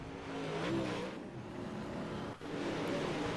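UMP dirt track race cars roaring around Limaland in a Wednesday night series, engines loud and continuous with a rising and falling drone as cars pass through the turns.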